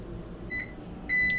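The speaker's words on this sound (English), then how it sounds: "Timer's going off." Kitchen timer going off in a home kitchen, two bursts of high electronic beeps, the second louder and longer, over a low steady background hum.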